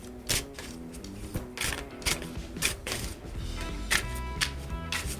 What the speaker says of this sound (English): Let's just see how the shuffle goes.